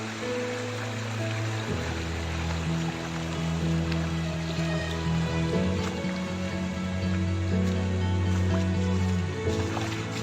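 A hidden waterfall cascading at Saisel Punji, heard as a constant, full rush of falling water with a deep steady roar underneath, close and unbroken throughout.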